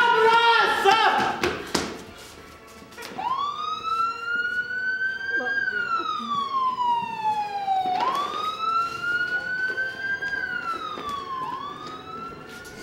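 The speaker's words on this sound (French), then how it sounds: "L'ambulance!" An ambulance siren wails in long rising and falling sweeps, loud and near, after a brief burst of clattering noise at the start.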